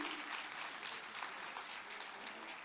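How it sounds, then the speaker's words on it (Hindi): Steady applause from an audience at a Hindi stage show, many hands clapping continuously with no voices standing out. "जोरदार तालियां हो जाएं उनके लिए"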